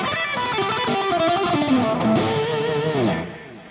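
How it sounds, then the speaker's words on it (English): An electric guitar lick, played with alternate picking: a quick run of distinct picked notes, close and fairly loud, alone, with the last notes fading out near the end. "Now when you alternate pick it, it's gonna sound kind of like this"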